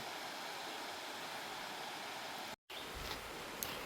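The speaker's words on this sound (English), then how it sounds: "So that was the waterfall." A waterfall on a hot, humid hiking trail near Knoxville, Tennessee roars as steady, dense rushing water, continuous and fairly close, broken by one brief dropout.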